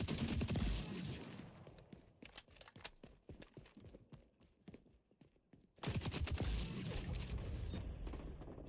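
Gunfire in the online shooter xDefiant, bursts of rapid shots at the start and again near the end, with quieter mechanical clicks and scattered pops in between.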